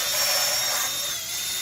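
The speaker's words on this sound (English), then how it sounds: "Let that drill scrub it out." A power drill spins a scrub brush against the rusty, mineral-crusted rims of a truck, producing a steady loud whirring drone with continuous bristle scrubbing over it throughout, alone and close.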